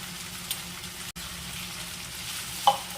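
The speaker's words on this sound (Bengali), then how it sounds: "আদা বাটাটা দেওয়ার পরও একটু কষিয়ে নেব।" Vegetables coated with ginger paste sizzle steadily in a pan for shukto while being stirred, with a brief dropout near the middle and a small utensil knock toward the end; no talking.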